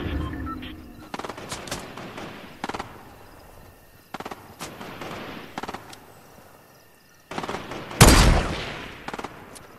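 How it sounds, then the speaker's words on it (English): Fortnite gunfire during a match: rapid bursts of automatic shots and single cracks scattered through the clip, some distant and some close, with one loud near blast late on. "He's shooting at somebody else."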